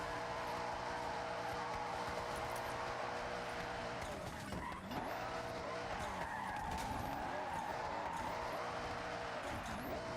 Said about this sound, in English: This is literally one of my favorite cars to drift in Forza Horizon 5,